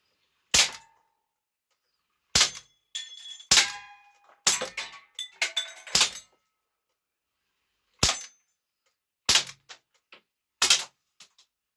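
Cybergun AK47 CO2 airgun firing 4.5mm pellets at steel targets, around eight sharp separate shots spread over several seconds, each a loud crack with a metallic clang of pellet striking steel, silence between.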